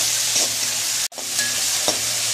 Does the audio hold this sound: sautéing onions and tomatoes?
yes